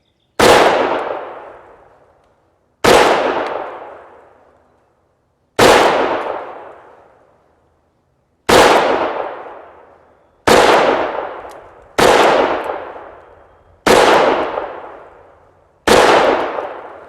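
Eight loud, sharp gunshots from an Excel Arms 5.7 Accelerator pistol at an outdoor range, irregularly spaced a second or two apart, each with a long ringing decay; no talking.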